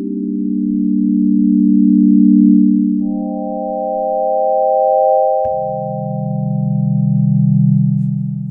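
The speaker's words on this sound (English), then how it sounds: "all we've done is chosen a sine wave, which is a single harmonic, and then we've shaped that using an envelope" Clean sine wave tones from the Operator synth in Ableton with a slow attack, played as sustained notes that fade in gently. A low tone gives way to a higher one, then a low note returns. No voices.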